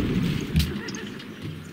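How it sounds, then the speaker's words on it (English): A horse neighs once, a short loud whinny over a low background rumble and other indistinct noise. "Horses."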